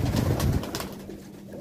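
Domestic pigeons in a loft raising squabs for meat coo loudly and close in the first half second, then the calls fade to a softer murmur of birds.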